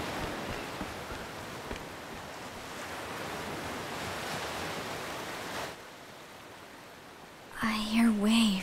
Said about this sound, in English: I hear waves.